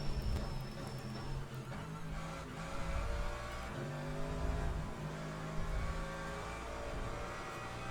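Race car engines in Le Mans Ultimate, with McLaren and Mercedes cars on track, drone and rev continuously at a fairly low level, rising and falling through gear changes with the field running close together.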